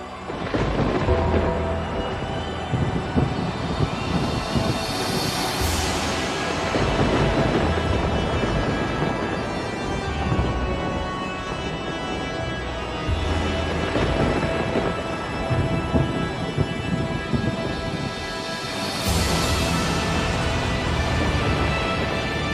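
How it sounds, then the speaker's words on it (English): A thunderstorm with steady heavy rain and repeated rolling thunder. Loud, continuous, and close, with two strong thunder swells rising out of the downpour and no talk. "you can hear the thunderstorms behind it"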